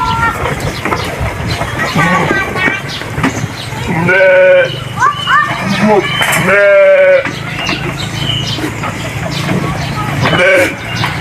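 Goats and sheep bleat on a Thai livestock farm, several drawn-out wavering calls in the middle of the stretch, close and clear over a steady outdoor rumble, with someone talking throughout.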